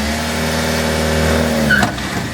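A BMW E30 with air ride, raised all the way, reverses slowly, its engine idling with a steady low hum that swells slightly before a brief scrape or clunk near the end.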